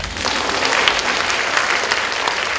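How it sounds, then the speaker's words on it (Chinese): Steady audience applause fills a university lecture hall at a talk event, dense, even clapping sustained for the whole stretch with no voices rising above it. "掌声"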